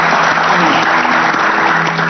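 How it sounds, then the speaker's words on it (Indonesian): A television studio audience applauds guests on an Indonesian show, with a steady, dense burst of clapping that fills the whole short clip at close range. "Saya minta tepuk tangannya untuk tamu-tamu saya luar biasa"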